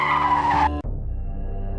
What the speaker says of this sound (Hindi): सुशांत अचानक गाड़ी का ब्रेक मारता है।